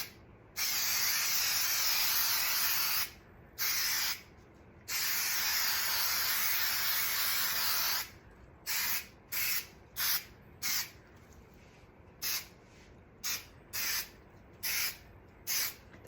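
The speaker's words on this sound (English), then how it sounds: "I'm gonna go ahead and spray my backer." An aerosol spray coats the backer board of a paint kit in several long hissing bursts, then a string of short, evenly spaced puffs, close up and with no talking.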